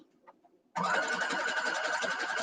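A sewing machine starts up and runs at a loud, steady hum, close up, while chain-piecing quilt nine-patch blocks with quarter-inch seams.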